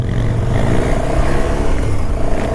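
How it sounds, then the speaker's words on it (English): A loud KTM 1290 Super Duke R motorcycle engine drones close by with a rough, steady rumble and slight rises in pitch, ridden with the throttle open. "you're not supposed to be revving your engine like that"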